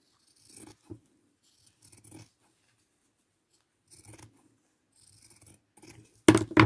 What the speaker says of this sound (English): So again, cut your leaf to shape.